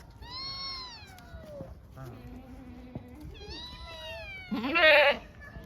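Young goats bleat in high, wavering cries, several overlapping calls, with one louder nearby bleat near the end over faint background noise.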